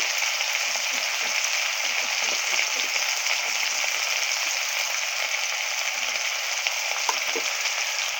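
Turmeric and chili frying in oil in a pan with catfish and potato, a steady dense sizzle and crackle, close and even throughout with no voices.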